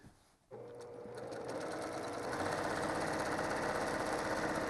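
A sewing machine stitches steadily during free-motion quilting, starting after a short quiet moment with a few slow stitches, then running as a loud, continuous, rapid mechanical hum and clatter that builds slightly in intensity.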